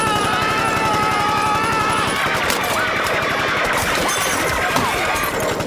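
Rapid cartoon machine-gun fire rattles in dense continuous bursts, loud and close, with crashing and shattering sounds mixed in.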